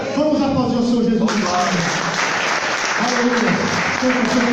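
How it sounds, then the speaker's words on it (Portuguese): A church congregation breaks into applause, broad clapping that swells in after a voice speaks and carries on under further speaking, fairly loud and close. "Vamos aplaudir o Senhor Jesus."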